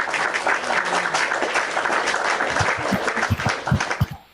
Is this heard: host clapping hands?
yes